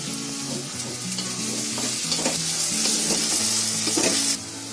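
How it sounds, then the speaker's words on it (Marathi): Onion frying in a pan over full gas flame, a loud continuous sizzle with stirring scrapes and a low background hum, no talking. "तर पहिला कांदा चांगला फ्राय करून घ्यायचा, आणि कांदा फ्राय करताना आहे ना फुल गॅस करायचा."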